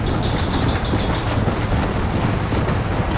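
Train running on rails in Red Dead Redemption: a loud, continuous close rumble with rapid rhythmic clatter throughout, with no speech over it.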